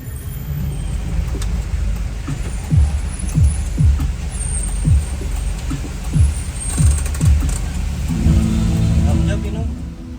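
A Prima Jasa intercity bus passing at a roadside waiting spot in Majalengka, its low engine rumble steady and close, with clanking mechanical knocks and a hiss, the drone deepening as it pulls by.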